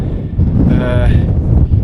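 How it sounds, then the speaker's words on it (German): Strong wind on a high mountain saddle in the Pyrenees pounds the microphone with loud, rough, broadband gusts that swell and surge for the whole two seconds, and a brief voice-like tone comes through in the middle. "Also es ist so ein starker Wind, dass ich aus dem Gleichgewicht geraten bin."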